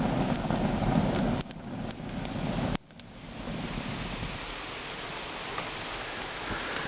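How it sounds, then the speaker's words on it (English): Wind gusts and a light rain patter just outside a small cave in wet woods, a soft, steady hiss that drops abruptly twice, no talking. "there's just a light rain falling right outside this little old cave right here"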